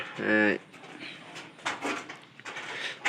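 A young pigeon gives a short, low, throaty coo near the start, followed by faint straw rustling and background noise.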